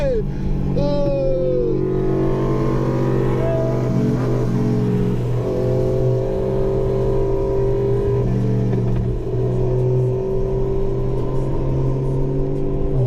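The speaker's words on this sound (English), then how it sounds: "Look at this fucking exhaust." Loud, steady engine drone from a straight-piped Honda Accord 2.0T Sport during a night drive, heard from inside the car with rising and falling revs, while people talk over it.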